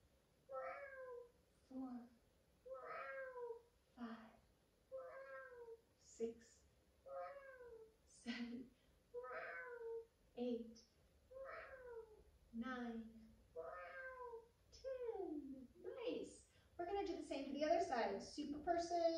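A person imitates a cat with a long series of rhythmic, evenly spaced meows, about a dozen in steady succession, growing busier and louder toward the end, with no other talk.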